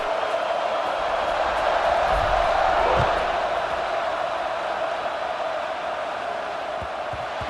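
A football stadium crowd at Kansas vs Oregon roars in a steady, broad wash of cheering that swells slightly and then eases, distant and continuous under faint commentary.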